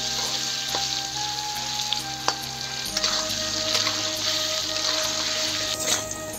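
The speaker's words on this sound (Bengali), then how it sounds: "আলু কটা লাল লাল করে ভেজে নেবো" Potatoes fry in hot oil until reddish, giving a loud, steady, close sizzle with occasional sharp clicks of stirring throughout.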